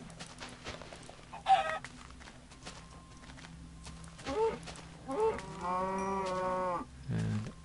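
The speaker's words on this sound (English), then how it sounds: "As you can see, there's some cows here." Cows in the Minecraft video game give several distinct moos, one short call and then a longer drawn-out low moo near the end, over quiet background game sounds with someone talking now and then.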